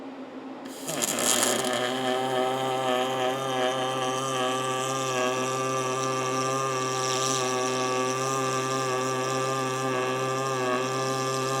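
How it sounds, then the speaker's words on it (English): Welder running steadily during a service truck bed build, a constant mechanical hum with strong tonal harmonics that starts abruptly after a second and holds unchanged, no talking. "I'm going to get you a picture of the welder we're using and see how it does"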